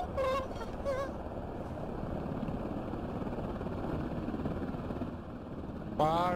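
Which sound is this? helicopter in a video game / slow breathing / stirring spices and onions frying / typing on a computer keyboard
helicopter in a video game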